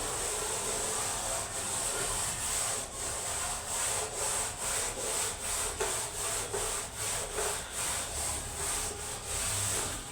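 Rapid back-and-forth rubbing across a board, a soft scratchy swishing repeated in quick regular strokes through the whole stretch, fairly quiet with no talk over it.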